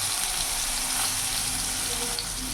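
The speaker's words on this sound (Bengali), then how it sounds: "এখানে একটা টমেটো দিয়ে দিলাম" A tomato hits hot mustard oil with cumin seeds in a wok, giving a loud, dense, continuous sizzle that holds steady for a couple of seconds.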